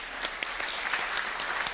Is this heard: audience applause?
yes